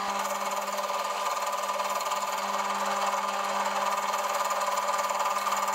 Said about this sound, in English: I'm using a Forstner bit first to create a countersink for the bolts that I'm going to use.